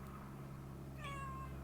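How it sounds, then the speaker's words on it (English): A house cat lets out a single clear meow near the end, brief and close, over a quiet indoor hum. "So, here's my cat."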